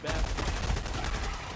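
Rapid gunfire in the Helldivers 2 video game, a continuous burst of automatic shots in quick rhythm, loud and close, with other game noise underneath.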